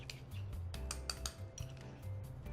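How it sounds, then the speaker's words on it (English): A utensil stirs a thyme and cracked black pepper marinade in a bowl, giving quiet repeated clinks and scrapes in an irregular rhythm, close and faint. "Okay, we're going to stir that together."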